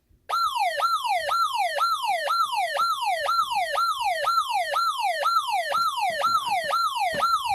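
Tyco/ADT Safewatch Pro 3000EN security alarm siren wailing in a fast, steady up-and-down sweep, loud and continuous from start to finish, with no talk.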